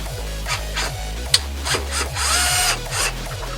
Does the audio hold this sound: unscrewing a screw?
yes